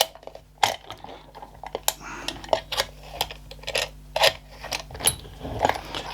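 An Aldi WorkZone clamp is unscrewed by hand, giving a series of sharp, close clicks and ratcheting ticks at irregular intervals over a quiet background.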